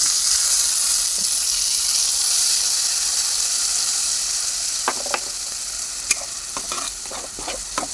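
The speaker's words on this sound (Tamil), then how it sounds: "நம்ம அரைச்சி வச்சுருக்கிற தேங்காய் இருக்குது பார்த்தீங்களா அதை ஊற்றிக்கலாம்" Ground coconut paste poured into hot oil, giving a loud, even sizzle and hiss that fades slightly, then a few scraping stirs and clinks near the end, with no talking.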